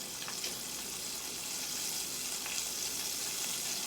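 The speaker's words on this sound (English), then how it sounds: "Let's fry these last pieces of shrimp." Pieces of shrimp fry in a pan for po' boy sandwiches, giving a soft, steady sizzle and crackle with faint pops throughout, heard alone at low volume.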